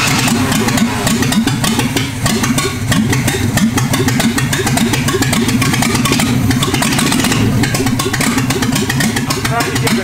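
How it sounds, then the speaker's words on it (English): A Jaguar car engine runs on very light throttle with a steady, close mid-pitched idle and a slight rise in revs, loud and continuous throughout. "I'm trying to give it very little gas"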